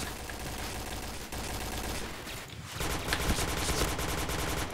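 Rapid automatic gunfire in the shooter game Point Blank, dense and continuous bursts at close range filling the whole stretch, briefly dropping before resuming even heavier, with no talking.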